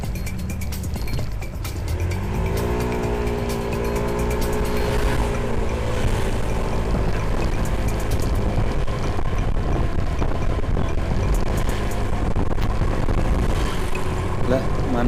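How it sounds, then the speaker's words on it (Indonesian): Honda ADV scooter exhaust drones steadily while riding through congested traffic, with rising engine tones as it accelerates and constant wind rush throughout. "Knalpotnya halus ya."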